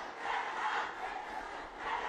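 Cricket crowd at a Nepal versus UAE World Cup League match roaring and cheering, a sustained swelling wall of voices that rises and falls slightly, continuous throughout.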